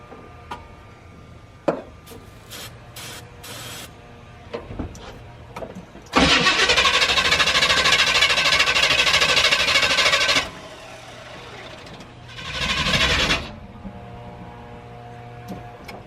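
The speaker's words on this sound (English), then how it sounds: "I'm gonna try to start this thing up with some starting fluid." An old Chevy engine, unrun for 10 years, cranks on starting fluid with scattered clanks, then roars to life for several seconds, dies out, and briefly fires again before quieting.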